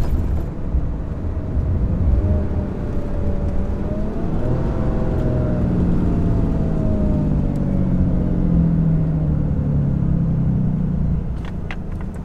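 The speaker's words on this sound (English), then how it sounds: "that diesel exhaust brake is insanity" A Ram 3500 dually diesel pickup tows a heavy load up a 6% grade, its engine holding a steady loud drone with a rising and falling whine and constant road rumble.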